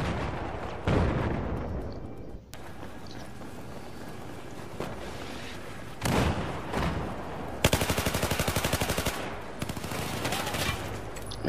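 Battlefield 4 gunfire crackles through, with single shots and a rapid automatic burst near the end over a steady noisy background.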